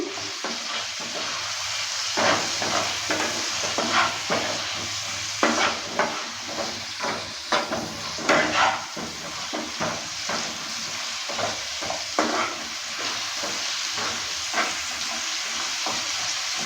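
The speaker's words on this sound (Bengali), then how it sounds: "লাউটাকে ভালো করে একটু ভেজে নেব লাল লাল করে" Bottle gourd fries in a pan with salt and turmeric under a soft, steady sizzle, with repeated scraping and stirring strokes of a utensil against the pan.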